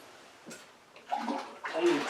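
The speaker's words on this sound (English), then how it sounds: "let me put a little more hot water" Hot water being poured over rye whiskey mash grains, coming in short uneven splashing gushes that grow louder toward the end, with a voice briefly present.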